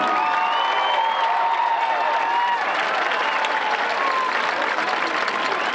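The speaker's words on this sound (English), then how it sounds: "Let's give another round of applause to the Musselman High School, Mike and Dad." A large audience at an annual high school band spectacular for the Musselman High School band keeps up sustained, even applause mixed with some cheering and raised voices.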